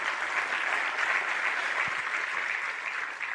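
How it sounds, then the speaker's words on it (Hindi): Loud, sustained applause from an audience, a dense and even wash of clapping that carries on without a break, with no speech over it. "आई थिंक उनके लिए बहुत जोरदार तालियां दी जा सकती हैं।"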